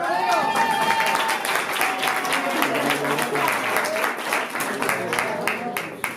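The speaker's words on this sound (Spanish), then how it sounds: "la familia Ferreira Esperati y Romero Bachen va este aplauso." Wedding guests applaud together in a sustained burst of clapping that fills the room, with a voice speaking over the applause.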